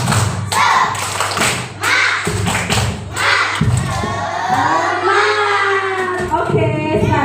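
A classroom of children doing rhythmic spirit clapping: a patterned series of loud, close thumping claps in groups, with children's voices chanting and calling along between and over the beats.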